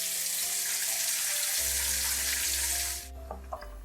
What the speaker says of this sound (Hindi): मीडियम फ्लेम पे हम इसे फ्राई कर लेंगे दोनों तरफ से